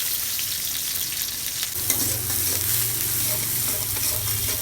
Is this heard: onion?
yes